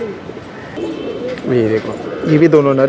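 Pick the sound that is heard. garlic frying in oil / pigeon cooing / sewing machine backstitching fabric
pigeon cooing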